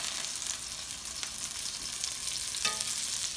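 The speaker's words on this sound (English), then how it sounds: "we're going to pan-sear our tuna now, and we're going to place it in the hot oil" Tuna sears in hot oil in a pan, giving a constant bright sizzle with a few sharper crackles and spits, close and steady throughout with no talking.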